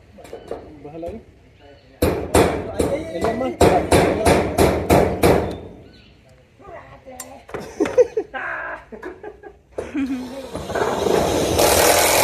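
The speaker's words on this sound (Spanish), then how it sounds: "¿Por qué estás acabando con el martillo?" Hammer blows at a small house under construction, a burst of about ten sharp, regular strikes followed by scattered knocks and clatter, with people talking nearby.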